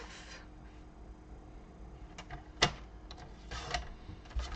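Cardstock is cut on a paper trimmer with a quick sharp slice, followed by softer sliding and clicking of the blade and paper, fairly quiet with no talking.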